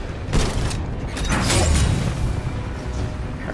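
Titan firing on a ship in Titanfall 2, a sustained roar of heavy booming blasts and mechanical whooshes over roughly three and a half seconds, loud and dense throughout.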